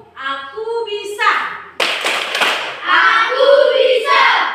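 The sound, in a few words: group clapping rhythm, tepuk semangat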